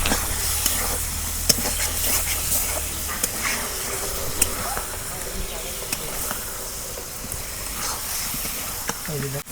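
Chicken meat frying dry in a pan for kala bhuna gives a steady, moderate sizzle and hiss, with occasional scraping and stirring clicks and someone speaking over it at times.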